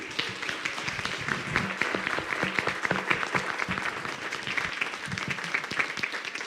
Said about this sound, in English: a very big round of applause for yourself